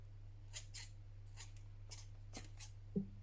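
Scissors snip thread during a papercraft project, a handful of small, crisp metallic clicks spread over a few seconds, faint and close over a steady low electrical hum.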